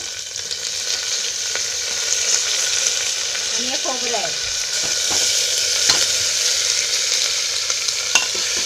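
Loud crackling sizzle of spices, onion and tomato frying in oil for a Maharashtrian dal tempering, with a spoon scraping and stirring through the pan; a voice speaks briefly over it.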